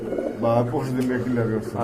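Pigeons at a pigeon sale coo in low, throaty warbles close by, the rolling calls running together over the short moment alongside nearby voices.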